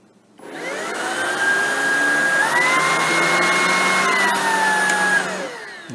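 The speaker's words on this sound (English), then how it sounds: "Now I'll put the unit in bare floor mode and then pull on that boost trigger and you'll hear the difference." A Shark Rocket Pro stick vacuum in bare floor mode with the boost trigger pulled: a loud, close motor whine spins up, holds steady with a rising pitch shift partway through, then winds down.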